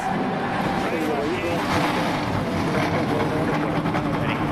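NASCAR Nationwide Series race car engines start up at Bristol, a dense loud roar mixed with crowd noise throughout.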